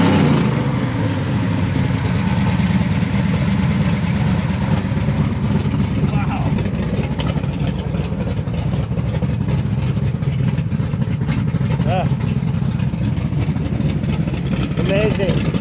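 A 1967 El Camino's V8 with open headers and no exhaust drones loudly and steadily with rough low-end pulsing, like an idling engine, while voices talk over it.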